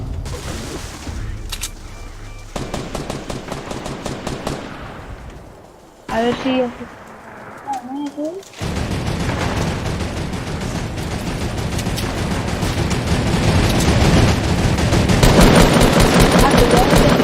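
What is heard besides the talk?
minigun gunfire in a video game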